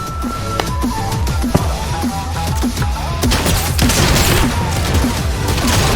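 Rapid bursts of video game gunfire in a snowy winter shooter, sharp repeated shots in a steady rhythm that thicken into dense continuous firing over loud background game noise.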